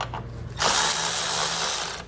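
Power tool driving out a 10 mm bolt on a 2016 Mazda, a loud, close whirring burst that starts abruptly after a brief pause and runs steadily for about a second and a half before tapering off.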